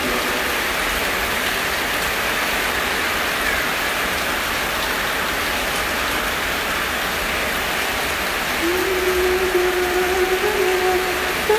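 Steady rain falling, a continuous even hiss of drops hitting surfaces close by, unbroken for the whole stretch with no voices, just a faint tonal whine near the end.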